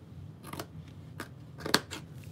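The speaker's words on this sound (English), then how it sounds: "And I cut around carefully." Scissors snip around sewing interfacing for a tote bag in a few separate close cuts, with short crisp blade closures spaced irregularly over a quiet background.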